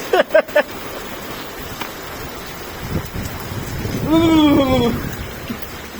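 Steady hiss of the first winter rain falling in Riyadh, Saudi Arabia, with a few sharp knocks at the start and a voice briefly calling out near the end.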